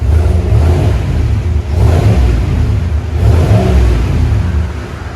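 A 2020 GMC Sierra AT4 with a 6.2L V8 and Flowmaster 40 Series dual exhaust revs loudly up close, a deep rumbling roar rising and falling in three swells.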